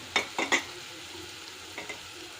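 Thinly chopped potatoes frying with tempering seeds in oil for mint rice, a quiet low sizzle with a few clattering stirs of a spoon against the pan, close by.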